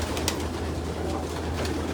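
Pigeons coo inside a loft holding about 860 birds, a low steady layered cooing from many birds at once, close and continuous, with occasional wing flutters and light rustling.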